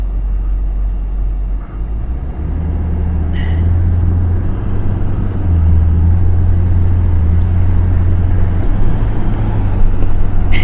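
A car drives along an outback road near Wolfe Creek Meteorite Crater, its engine rumbling steadily and loudly with road noise, briefly rising as it moves along.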